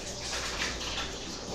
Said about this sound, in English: I'm going to rinse my hands again